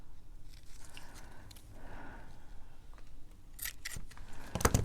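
Scissors snip material for wax seal embellishments on a craft desk: a few quiet, close cuts come in a quick cluster near the end after soft handling noise.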